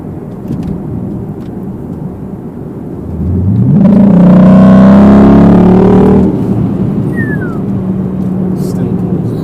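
A Dodge SRT8 with a Hemi engine accelerates hard, its deep exhaust roar rising in pitch through the gears for a few seconds before easing off, loud and close over a steady background rumble.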